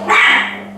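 Dogs from a territorial pack of strays bark in a single loud, close burst that fades quickly, with no speech over it.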